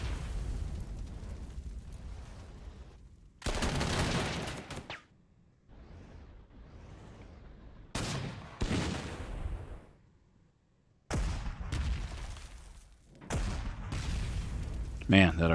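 Artillery fire in Panzer Corps 2, a string of heavy booming blasts with rumbling decay, some separated by quiet gaps, while someone talks over parts of it.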